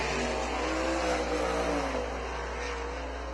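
Race cars roar around an oval track during a heat race, a loud sustained engine drone swelling and easing as the pack passes, with no talk.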